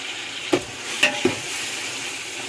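Long thin brinjals fry in oil in a pan, a steady low sizzle broken by three sharp clinks of a spoon stirring against the vessel, with no talk.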